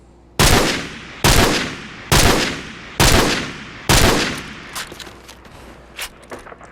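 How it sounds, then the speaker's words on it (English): An assault rifle in Call of Duty 4 fires five short blind-fire bursts at roughly one-second intervals, each a sharp, loud rattle that decays into echo, followed by a few scattered quieter clicks and thuds. "Blind fire, short bursts."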